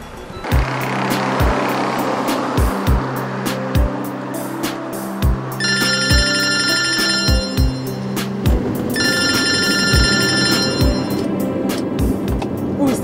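Telephone ringing in bursts of bright trilling bell tones, two clear rings over a busy background of steady hum and repeated thuds.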